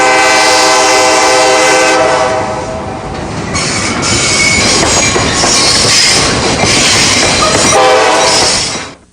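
Canadian Pacific steam locomotive No. 1293 passes on the Cuyahoga Valley Scenic Railroad in 2007. A loud, close whistle sounds over rumbling and clanking wheels, then the noise cuts off abruptly at the end.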